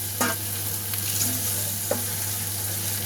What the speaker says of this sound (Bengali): এবার আমি এর মধ্যে দিয়ে দেবো ভেজে রাখা আলুগুলো